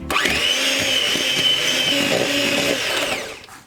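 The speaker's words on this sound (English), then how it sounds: "Beat in the egg until the mixture is alright." An electric mixer beats an egg into cake batter with a loud, steady whine that holds for about three seconds and then cuts off.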